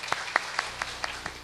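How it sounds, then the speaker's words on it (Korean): A church congregation at a mothers' prayer meeting claps in welcome: a handful of light, evenly spaced claps, fairly faint and sparse rather than a full ovation. "우리 유재건 장로님 나오실 때 감사와 사랑의 마음 담아서 뜨거운 박수로 환영하겠습니다."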